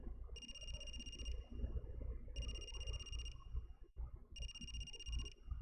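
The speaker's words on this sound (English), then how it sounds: "Is that a phone ringing?" Phone ringing in the video game AI: The Somnium Files, three evenly spaced electronic ring bursts, each about a second long, loud over a busy music and sound-effect bed.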